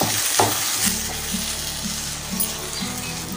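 Egg and dal curry frying in a pan while being stirred to keep it from sticking, a loud, close continuous sizzle with scraping stir strokes and no talk.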